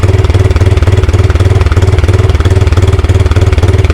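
A Honda Grom motorcycle with an erratic-idle fault idles close by with the idle screw opened slightly. The loud single-cylinder engine thumps in a fast, even rhythm throughout.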